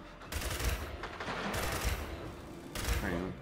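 Sniper gunfire in the video game Gears 5, a few sharp shots and bursts over dense combat noise, loud and busy throughout with brief gaps.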